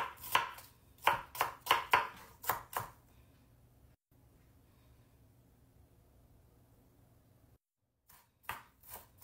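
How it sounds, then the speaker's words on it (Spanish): A knife chops an onion into small cubes rapidly on a cutting board in quick bursts, pauses through a quiet stretch, then resumes with a few more sharp chops. "Empezamos picando nuestra cebolla."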